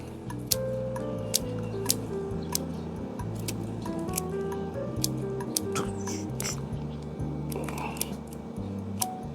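Scissors cut through ebony tree roots, giving repeated sharp snips and clicks spaced through a steady background hum, close and crisp.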